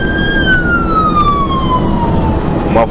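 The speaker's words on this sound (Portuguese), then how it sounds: "É ambulância, galera." An American Ford ambulance in Chile sounds its siren in a long, loud descending wail as it passes close by, with steady traffic rumble underneath.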